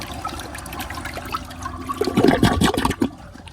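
A Briggs Beautyware siphon toilet flushes close by, building to a gurgling siphon rush of water that cuts off abruptly near the end.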